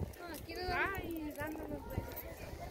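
Hooves of a horse clip-clop at a patron saint fiesta in El Tejuján de Ábrego, Fresnillo, Zacatecas, with steady irregular hoof steps amid festive crowd chatter and faint voices.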